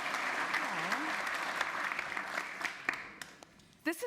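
An audience applauds to welcome a performer after her terrific performance, a dense, sustained clapping that thins out toward the end, with a few sharp claps and a brief voice near the close.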